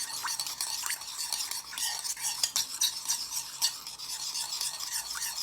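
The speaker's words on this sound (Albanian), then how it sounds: "Dhe në fund, rigon të shkërmoqur. Japim të përzier mirë." Salad tossed and stirred after crumbled dried oregano is sprinkled on, giving a steady, close scraping and rustling with light clinks of utensils against the bowl, continuous for several seconds with no talking.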